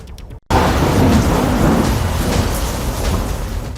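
Heavy rain pours down across flooded districts of Madhya Pradesh, a loud, dense, continuous roar that starts abruptly after a brief near-silent moment and holds steady with no voices.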